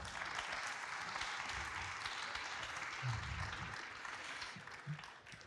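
A conference audience at a neuroscience event on Alzheimer's research applauds steadily to welcome a speaker onstage, a dense, even wash of clapping that tapers slightly toward the end.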